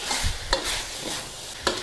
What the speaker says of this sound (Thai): คั่วให้แห้งๆคั่วให้กระทะกลิ้งอะค่ะ